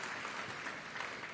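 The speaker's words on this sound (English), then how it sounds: "You can clap, thanks." A brief stretch of audience applause at an arts festival awards ceremony, a soft, even patter of many hands clapping heard from a distance.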